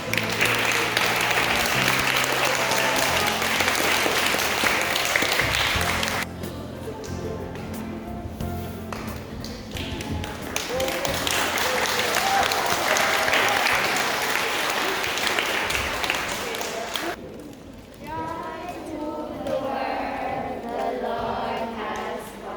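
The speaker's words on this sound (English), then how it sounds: "I'm asking everybody to give them a lively round of applause" An audience applauds at a school carol service with infant and primary students, sustained dense clapping swelling and fading in long waves, with a brief quieter gap before more clapping resumes.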